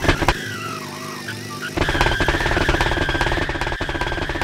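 A simulated Isuzu D-Max engine in a Roblox driving game holds a loud, steady high-rev drone at top speed, with a brief shift in tone partway through.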